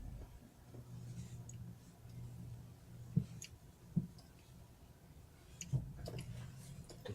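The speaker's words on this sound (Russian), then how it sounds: "Есть проблема щелчки при вывороте руля." A 2002 Honda CR-V gives a few faint, sharp clicks while the steering wheel is turned, the suspected fault being a worn strut support bearing; the clicks are spaced apart over a low, quiet background hum.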